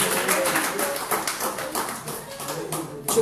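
Church congregation at a French Sunday service clapping steadily, a fairly close patter of hands that keeps going with voices mixed in.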